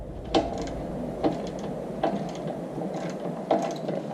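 Brake slide bracket bolts come off a 2014-2018 Jeep Cherokee rear brake, with a ratchet's rapid clicking and four sharp metallic clanks spaced through, close by and without talk.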